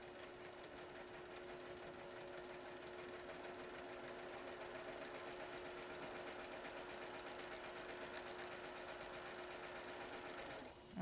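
A sewing machine stitches fabric in a steady, fast mechanical whir of rapid needle strokes, running continuously at an even level before stopping abruptly at the end.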